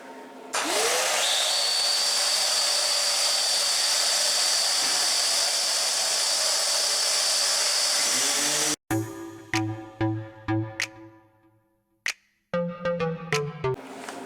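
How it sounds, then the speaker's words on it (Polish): A loud, continuous power sander whines and grinds on body filler on a Volkswagen Passat B5 for several seconds, then cuts off, followed by a series of sharp metallic clicks and short bursts. "Teraz zeszlifuję tą maseczkę. Uwaga, bo będzie głośno."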